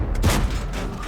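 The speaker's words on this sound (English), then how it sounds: "AppleBoom X plants a nice shot into the side of the Spick" A tank cannon shell slams into the side of an enemy tank in the World of Tanks video game, a loud, dense boom with rumbling gunfire that fills the whole moment.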